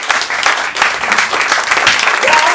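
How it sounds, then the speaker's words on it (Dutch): A studio audience gives a round of applause for three sentences; brisk, close clapping from a small crowd runs steadily with a slight dip partway through. "Eerst een applaus voor deze drie prachtige zinnen."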